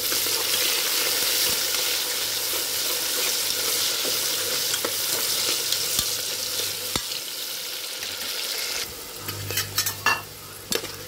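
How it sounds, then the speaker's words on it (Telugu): Chopped onions fry in a hot pan with a steady, dense sizzle throughout, and a few light clinks of a stirring utensil near the end. "ఉల్లిపాయ వేసేసి వేయించుకోవాలి."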